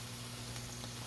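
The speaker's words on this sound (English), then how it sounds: "you're gonna cover the pot and make everything simmer and cook" A saltfish medley simmers in a covered pot, giving a steady, soft bubbling hiss that runs without a break and without talk.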